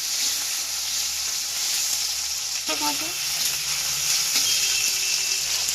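Chopped tomato and green chilli fry in a hot pan, giving a continuous close sizzling hiss with a brief burst of stirring partway through; no speech.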